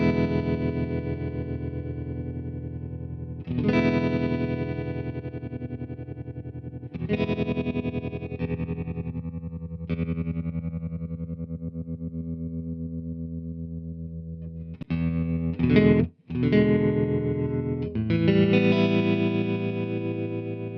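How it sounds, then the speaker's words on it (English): A 1972 Fender Super Reverb amp pulses with tremolo as electric guitar chords ring out, each chord sustaining with a rhythmic throb, struck several times in separate phrases, clear and up close. "Yep, it's a tremolo, all right."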